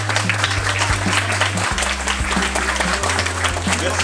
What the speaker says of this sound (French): J'aimerais bien qu'on applaudisse tous cette initiative parce que je trouve ça très bien.